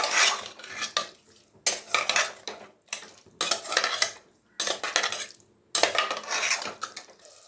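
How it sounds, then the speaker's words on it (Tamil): Prawns stirred with onion and tomato in a pan for a prawn biryani, with a utensil scraping and clanking against the metal in bursts of about a second, separated by short pauses and a faint sizzle. "சேர்த்துட்டு வெங்காயம் தக்காளியோட நல்லா கலந்துப்போம்"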